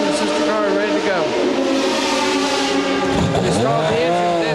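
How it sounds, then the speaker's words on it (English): A Porsche race car's engine restarts in the pits at the 1998 Le Mans 24 Hours, a loud continuous engine roar with rising and falling revs, heard under steady race commentary. "They stalled the engine, but fired right back up, and out he goes."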